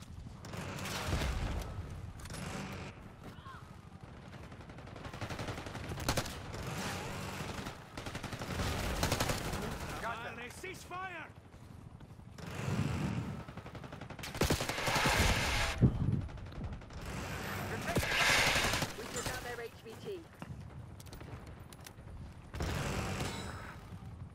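Rapid gunfire bursts from an online multiplayer shooter game, repeated volleys and machine-gun rattles over a busy battle mix, with brief pauses between loud clusters of shots across the whole stretch.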